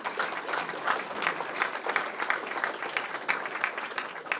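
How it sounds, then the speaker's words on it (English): An audience at a recovery month celebration in Boston claps steadily, individual hand claps audible within a moderate, fairly close burst of applause lasting a few seconds. "we can clap for that"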